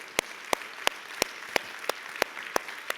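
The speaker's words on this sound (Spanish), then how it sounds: "Dale un fuerte aplauso a Él" A church congregation claps in unison, sharp loud claps falling at a steady brisk beat about three times a second over a soft background murmur.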